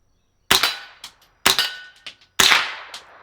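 Three sharp supersonic cracks from a suppressed Smith and Wesson M&P 15-22 rifle, spaced about a second apart, each loud and close with a short ringing tail and quieter echoes.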